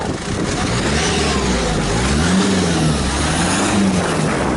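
A rough, rebuilt old car with cable-tied lights and a loose hose revs loudly as it pulls away, the engine note rising and falling in wavering surges, close and continuous.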